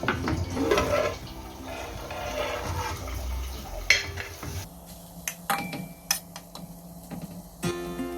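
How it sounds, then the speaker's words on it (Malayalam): Masala-coated chicken goes into a pan for a Kerala-style chicken roast and is mixed, bringing close clattering of utensils on the pan, scraping and a soft sizzle. "ഇനി ചിക്കൻ ഇട്ട് കൊടുത്ത് നന്നായി മിക്സ് ചെയ്യുക"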